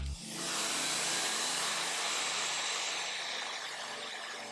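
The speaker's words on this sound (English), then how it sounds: "Then I'm gonna take my blow dryer. This is the FHI. I think this is the Versus Spear, and I'm gonna use it on a cool setting." An FHI Versus Spear blow dryer running on its cool setting switches on with a click and settles into a loud, steady airy whoosh held close for several seconds before easing slightly.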